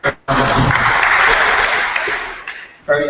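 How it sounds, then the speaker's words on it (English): A small conference audience gives brief, sparse applause, a burst of clapping that rises quickly, holds for about two seconds and fades, with a voice before and after. "Very shy applause here."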